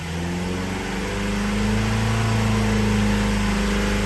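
A car engine held at a steady elevated idle around 3500 RPM during an oil pressure diagnostic check, a loud continuous hum that climbs slightly and stays constant for several seconds with no talk.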